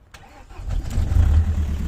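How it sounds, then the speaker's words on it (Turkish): An Opel Vectra diesel engine cranks briefly and catches on the first try, settling into a loud, low, rumbling idle close by. "Tek marşta çalışıyor ama bak."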